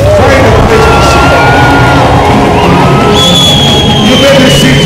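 A church congregation claps and shouts in loud, sustained praise, a dense wall of cheering, whoops and applause with music ringing through it.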